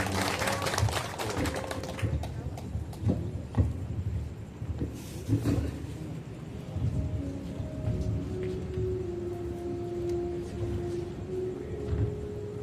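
Applause from the crowd at a village head's installation ceremony for neighborhood officials, a faint, distant patter of clapping fading over several seconds with ambient outdoor noise.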